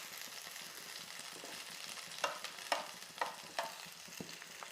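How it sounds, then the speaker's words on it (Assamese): Finely chopped onions frying in a pan for onion kachori filling, with a steady low sizzle and a few sharp spatula scrapes and clicks as they are stirred. "ইয়াত মই এতিয়া পিঁয়াজখিনি দি দিম। অলপ টাইমৰ কাৰণে এইখিনি লৰাই থাকিম।"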